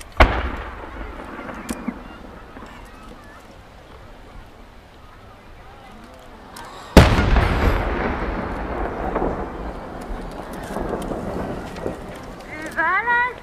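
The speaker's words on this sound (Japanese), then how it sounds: "4回転成功の花火10号玉が上がりました。" Distant crowd murmur and talk at the Nakagawa fireworks festival in Japan, then a single loud No. 10 firework shell boom that echoes and rumbles on, with crackle and voices continuing afterward.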